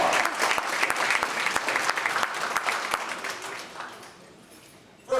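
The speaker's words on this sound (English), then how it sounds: "Give the pastor a big round of applause." A crowd applauds loudly at a scholarship gala, with dense, steady clapping that fades toward the end.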